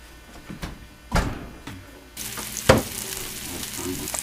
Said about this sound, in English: I am browning 2 pork chops